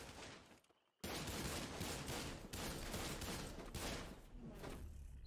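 Heavy gunfire in the video game The Cycle, a sustained dense barrage of rapid shots after a brief lull, loud and continuous for several seconds with no pause.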